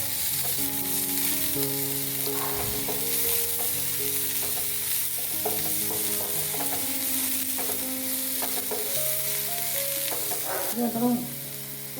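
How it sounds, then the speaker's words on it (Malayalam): Chopped onions and curry leaves sauté in hot oil for a curry, giving a steady close sizzle with scraping stirs throughout and background music tones running underneath. "അരിഞ്ഞു വെച്ചിരിക്കുന്ന ഉള്ളി അതിനകത്തേക്ക് ഇട്ടുക. ചെറുതായി വഴറ്റി കൊടുക്കുക."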